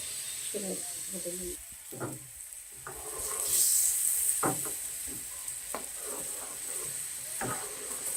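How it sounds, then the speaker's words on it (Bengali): Lentils poured into a pan of sizzling ghee with browned onions for shahi mung dal give a steady close frying hiss, with a brief surge of stronger sizzle midway and scattered stirring clatter throughout. "এর মধ্যে আমরা ঢেলে দিলাম ডালটা কি সুন্দর একদম ঘিয়ের সাথে মেল্ট হয়ে যাচ্ছে।"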